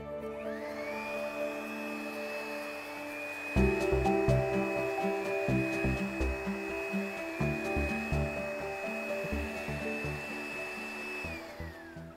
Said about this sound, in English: The heat up of the sun in the oil-filled system can be simulated when we use a